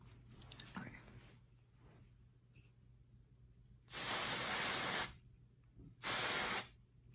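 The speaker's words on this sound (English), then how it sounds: "we're just gonna spray it in and see what it looks like" Two loud bursts of dry shampoo aerosol sprayed onto the front of the scalp, one about a second long and a shorter one after a pause, following quiet handling noises.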